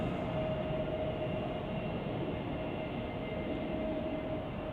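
A Frontier Airbus A320 lands at Chicago O'Hare with a constant, broad engine roar and a faint steady whine, heard from a distance at an even level with no voices.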